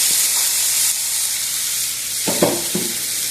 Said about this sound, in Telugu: మరి కొంచెం నెయ్యి వేసుకొని తురిమిన గాజర్ వేసుకుంటున్నానండి.